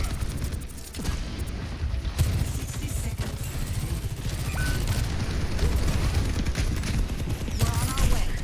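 Overwatch 2 gameplay with rapid bursts of game gunfire and mechanical weapon clatter, dense and loud throughout, while players talk over the shooting.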